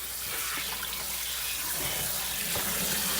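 Tap water runs steadily into a sink while pork butt meat is rinsed under it, a constant close splashing hiss with a few small spatters and knocks throughout.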